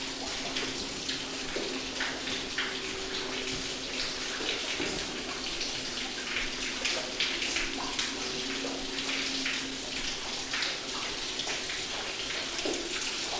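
Running water flows continuously with a soft splashing hiss and small irregular droplet patter, fairly faint and steady over a low background hum, no talking.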